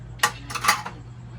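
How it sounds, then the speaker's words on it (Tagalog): Plates and cutlery clink together in a couple of quick, close bursts during washing up at home, with a faint hum underneath and no talking. "Naghuhugas ng plato."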